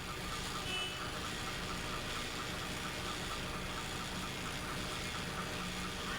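A stationary wing van's engine runs steadily at a gate, a constant broadband rumble close by with no pauses.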